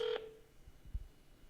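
A telephone call dialing out over a speakerphone: one short, clear tone, then a faint quiet line with low thumps.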